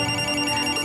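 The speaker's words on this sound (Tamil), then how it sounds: "ஆனந்த் போனா? கேளுங்க கேளுங்க" An indoor telephone rings in a short, loud, steady electronic tone that fills the brief moment on its own.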